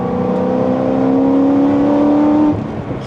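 A Corvette ZR1 accelerates hard from inside the cabin, its engine drone rising steadily in pitch for about two and a half seconds before the revs drop off.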